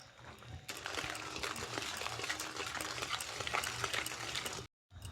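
Grated amla is stirred into melted sweetener in a pan, giving a steady close scraping and bubbling sizzle that runs continuously, then cuts off briefly near the end.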